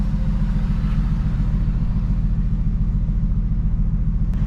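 A car engine idles steadily with a deep, throaty rumble and pulsing low-end throb, close by and continuous.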